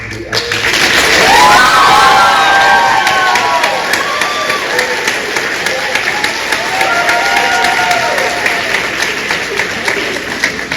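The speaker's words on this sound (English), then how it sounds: "we can just give you a round of applause" An awards ceremony audience at a high school journalism event applauds nominated teachers as they stand, sustained clapping mixed with scattered cheers and voices calling out throughout.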